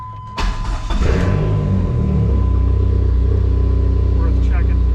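A Dodge SRT-4 running lean with its O2 sensor unplugged starts up, its engine catching with a brief burst and then settling into a loud, steady, close idle rumble.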